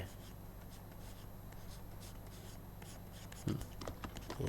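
A pencil makes soft, continuous scratchy strokes on paper while a chibi cartoon face is sketched, faint and close, with a brief voice near the end.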